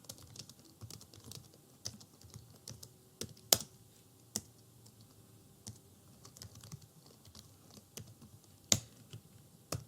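Typing on a computer keyboard while programming in Java gives scattered, quiet key clicks in irregular bursts, with a couple of sharper strikes and no voice.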